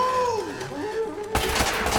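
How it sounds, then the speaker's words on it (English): Bird-like whistles fade out, then a sudden loud burst of rapid enemy gunfire erupts and continues, harsh and close, in an Uncharted video game firefight. "The enemy gunfire, not the birds."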